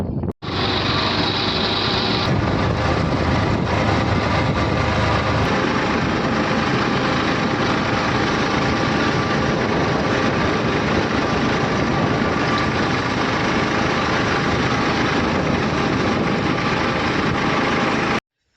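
A tractor engine chugs steadily and loudly throughout, a continuous mechanical drone with no voices.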